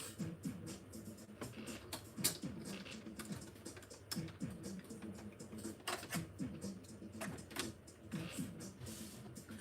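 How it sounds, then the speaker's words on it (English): A sewing machine bobbin is swapped out with a run of light plastic and metal clicks, taps and small snaps, close and fairly quiet, irregular and scattered, with no talking. "I need to change this bobbin out."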